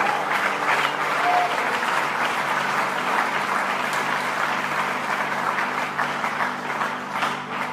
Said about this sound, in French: Mettez-vous et acclamons pour le Seigneur.